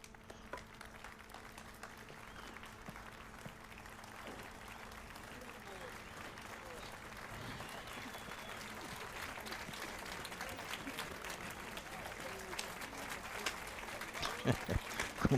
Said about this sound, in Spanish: Con tremendos guantes aquí aplaudiendo.